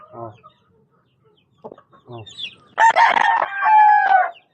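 A Pure Gilmore gamefowl rooster crows loudly and close in a coop, after short clucks from the chickens, with someone speaking briefly in between.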